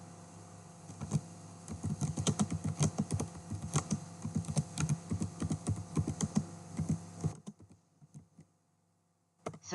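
Rapid, steady typing on a computer keyboard to enter a command, a dense run of close keystrokes lasting about seven seconds before stopping abruptly into near silence, with no voices.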